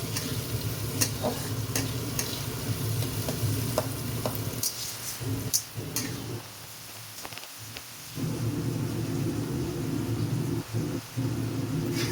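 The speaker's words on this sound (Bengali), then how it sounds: "এখন একটু ক্যাপসিকামটা দিয়ে একটু নাড়াচাড়া করে" Capsicum stir-frying in a pan for pasta, a steady close sizzle with scraping stirs and occasional clinks, the frying briefly quieter partway through before resuming.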